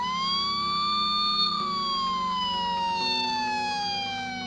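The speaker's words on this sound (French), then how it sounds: "transforme alors le son en sirène de police" A Playmobil toy ambulance emitting an electronic police-style siren, a steady wailing tone that rises then slowly falls, close and fairly loud with no voices.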